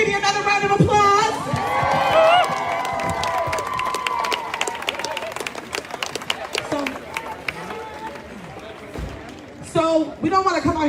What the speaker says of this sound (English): Let's give Speedy another round of applause.